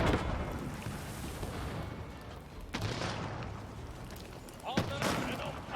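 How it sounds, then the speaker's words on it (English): Hand cannon gunfire in Age of Empires IV, a dense run of booming shots and battle noise through the clip, with louder blasts near the middle and toward the end. "Whoa, hand cannon is just one-shotting them."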